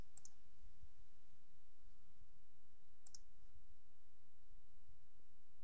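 A computer mouse gives two faint, sharp clicks about three seconds apart over a quiet, low room hum.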